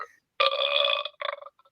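A loud, drawn-out burp rumbles close to the mic, followed by a shorter second gurgling burst and a small trailing hiccup, with no talking over it.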